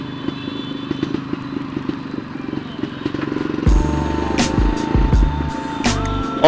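Vintage 1961 Jawa 250 motorcycle exhaust, a loud, close, steady rumbling idle that picks up into brief revs toward the end, heard alone without talk.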